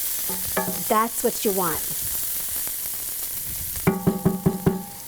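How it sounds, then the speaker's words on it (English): Mushrooms fry in a pan under a soft sizzle as they are stirred. A person speaks briefly over the frying, and a quick run of close stirring scrapes follows near the end. "Let's stir this around"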